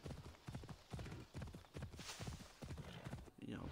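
A horse's hooves clip-clop at a steady walking rhythm in Assassin's Creed Odyssey, close and fairly loud over game ambience.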